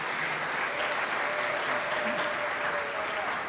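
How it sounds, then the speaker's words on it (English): Steady, dense applause from a crowd gathered for student staff at a college music percussion camp, sustained evenly throughout with no break. "maybe just a quick round of applause as well, if you could."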